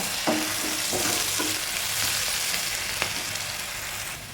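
Onions sizzle and fry in a pan for fish biryani, a steady broadband crackle broken by a few sharp stirring scrapes near the start and another around three seconds, with no talking.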